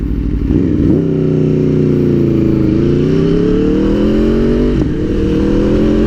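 A motorcycle engine cruises steadily, its pitch climbing under throttle and dropping sharply at clutch-assisted gear shifts near 5,000 to 6,000 RPM, loud and close throughout with no talk.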